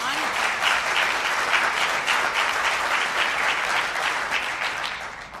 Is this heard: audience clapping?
yes